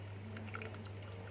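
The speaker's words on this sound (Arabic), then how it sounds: "هنحط شوية مية دافيين، يعني حوالي نص كوباية صغيرة" Warm water pours into a small cup, a soft trickling splash lasting about a second over a steady low hum, quiet and close.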